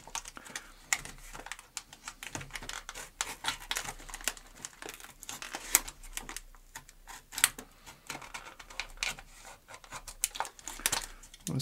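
Rapid, irregular scraping and crackling clicks from a blade or cutter working into a brass Master Lock No. 2 padlock body, a steady close-up stream of gritty bursts with no pauses.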